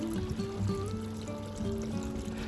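Water runs into a camper's water tank, a soft steady trickling and gurgling pour heard close up without speech.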